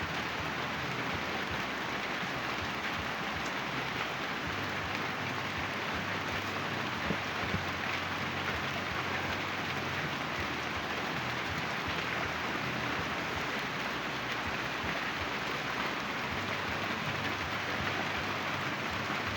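Steady, dense rain pours continuously, a broad unbroken hiss with no voices.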